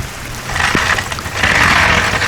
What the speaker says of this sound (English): the rain started pouring like as soon as I got the car on the ground.